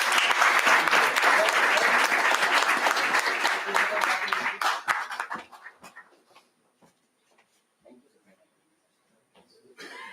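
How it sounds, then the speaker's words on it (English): A crowd's loud, dense round of applause at a formal felicitation event, continuous clapping for about five seconds that thins out and fades into near silence, with a few stray claps and a brief murmur near the end. "Bigger round of applause, please."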